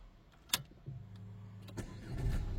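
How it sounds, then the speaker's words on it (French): Close by, a manual-transmission car's engine cranks with a few sharp clicks, catches, and settles into a low, steady idle that grows slightly louder at the end. "donc là le moteur est démarré"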